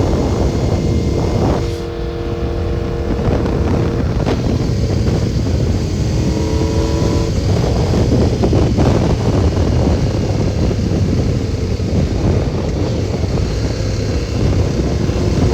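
A repaired motorcycle cruises at very light throttle on a highway, its engine running steadily with no misfires under loud continuous wind and road noise.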